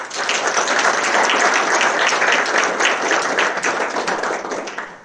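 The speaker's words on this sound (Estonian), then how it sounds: "Teeme aplausi Hebekai Kannule." An audience at a school graduation ceremony breaks into loud, dense applause of many hands that holds steady and then begins to fade toward the end.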